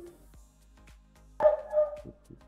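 A neighbour's dog gives a short bark and yip, mid-distance and fairly faint, over a low steady hum with small clicks around it.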